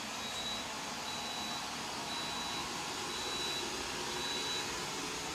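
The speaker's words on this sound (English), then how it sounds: "We are all about the vacuum right now." A household vacuum cleaner runs steadily and fairly loud throughout, a continuous broadband whir with a faint high whine and no talking.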